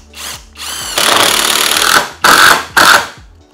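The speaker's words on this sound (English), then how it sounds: "We're just going to go for it using an impact driver and the bit that was provided" An impact driver with the bit supplied with the screws drives screws into wood without countersinking, giving loud, close bursts of rapid hammering whine: a short run, then a longer sustained drive and two brief final bursts.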